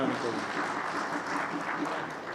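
A ceremony crowd gives steady, dense applause for newly elected PCPA Multan officials at an oath-taking event, loud and continuous throughout with faint voices mixed in.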